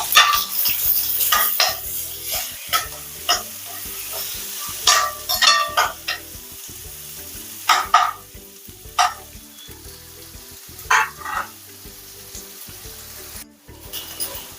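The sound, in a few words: coriander and mint frying in a pan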